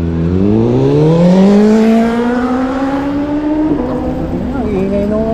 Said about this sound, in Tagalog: Ang ganda ng tambutso mo, pre. Ang ingay.